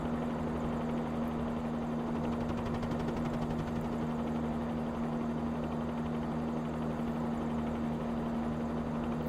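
Helicopter in flight heard from inside the cabin during autorotation practice, engine below optimal RPM, a loud steady turbine drone with a low rotor hum and a continuous rushing wash, unchanging throughout with no speech.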